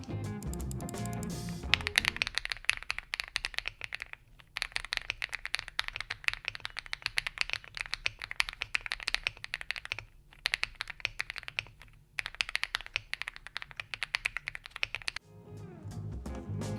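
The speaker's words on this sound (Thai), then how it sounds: "สำหรับการ ทดลองครั้งนี้ผมจะลองใช้สวิชบับเบิลกัมสวิชที่เสียงทุ้มมากๆ" Steady, fast typing on a Monka 6075 Pro mechanical keyboard with Bubblegum switches, deep, thocky keystrokes, broken by a few short pauses. Fairly close and clear, no talking.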